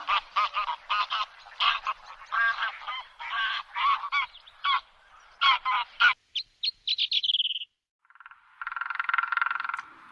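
Geese honking in a quick, rhythmic string of loud, nasal calls, thinning into a few shorter notes before a harsher, noisier call closes the sequence.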